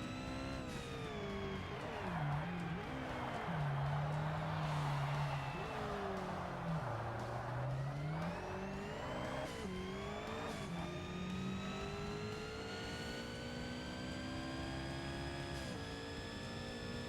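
A Ferrari engine in Forza Motorsport on Xbox, racing loud and close, the engine revving up and down through gear changes, with long rising pitch sweeps as it accelerates.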